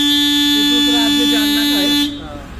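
A car horn blares in one long, loud, continuous tone close by for about two seconds and then cuts off, with a few faint voices underneath.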